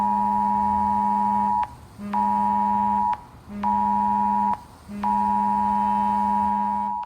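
Loud emergency alert tone from a mobile phone for an amber alert, four long harsh buzzing blasts with short gaps between them, close and alone with no talking.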